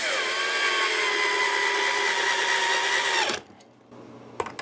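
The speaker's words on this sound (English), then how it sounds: "So I'll just put 2 screws in it." A power driver whines steadily for about three seconds while driving screws to attach a Telecaster guitar neck, then winds down and stops, followed by a few small handling clicks.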